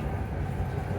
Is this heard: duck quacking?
no